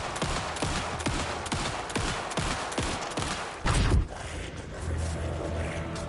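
Rapid gunfire in the survival horror video game Alan Wake 2, a dense run of sharp repeated shots followed by a heavy thud and quieter rumbling game sounds.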